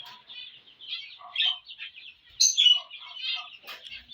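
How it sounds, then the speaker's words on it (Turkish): Busy, continuous budgerigar chirping and chattering close by, a steady stream of warbling tweets with a few sharper, louder calls midway. "Bu da benim mavi kuşum, muhabbet kuşu."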